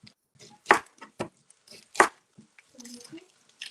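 Knife chopping a red onion on a board while making falafel sandwiches, with several sharp, distinct cuts spaced irregularly, close and fairly loud, with a brief voice and kitchen clatter toward the end.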